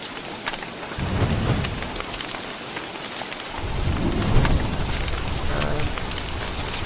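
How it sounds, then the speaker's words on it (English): Steady rain hisses in the video game Don't Starve while low rumbles of thunder roll in twice, swelling and fading under the constant patter. "It's raining, which is not a very good sight."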